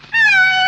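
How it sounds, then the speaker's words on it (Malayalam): A cat gives one short, clear, close meow, loud and alone. "പൂച്ച നിന്റെ കളിയൊക്കെ നിർത്തും."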